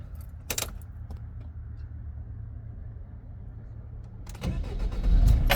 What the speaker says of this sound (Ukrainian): Заводиться з півоборота, працює рівно собі насправно.